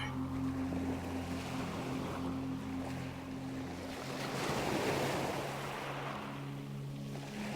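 Ocean waves wash ashore in a continuous surf roar, with one swell building slightly louder midway. A steady low tone and wind noise run beneath throughout.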